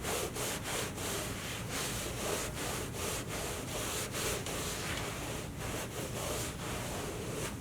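Brisk scrubbing of velour upholstery fabric with a brush and waterborne cleaner during repair, continuous close rubbing strokes in a fast steady back-and-forth rhythm, no speech.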